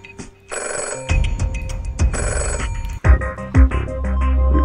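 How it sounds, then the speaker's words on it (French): A telephone rings loudly in two electronic bursts, signalling the banker's call in a deal-or-no-deal style game, followed by thuds and game music. "il y a un petit téléphone."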